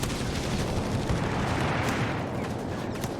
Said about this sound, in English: this time a strafe coming in